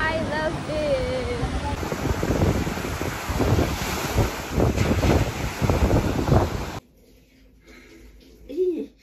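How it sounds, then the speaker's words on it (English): Strong wind buffets the microphone over the rush of breaking surf at a beach near Busan, then cuts abruptly to near quiet with a brief faint sound at the end. "So it's currently so cool and windy"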